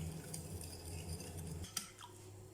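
Utensil scraping and clinking against a bowl while a dough starter of sugar, dry yeast and flour is stirred, soft and close, with a low hum underneath and a sharper knock near the end.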